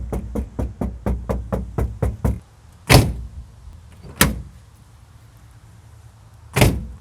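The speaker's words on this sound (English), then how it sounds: "Do the knocking." A quick run of about nine knocks on a Jeep TJ door panel without sound deadening, then three louder, hollow thumps spaced apart, each ringing briefly.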